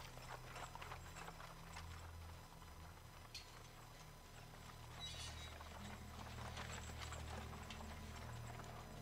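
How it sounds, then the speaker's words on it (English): A horse pulling a trailer full of barrels in The Order: 1886, its hooves clip-clopping steadily at a walking pace in the background, faint and distant amid ambient street noise. "Just a horse and trailer full of barrels."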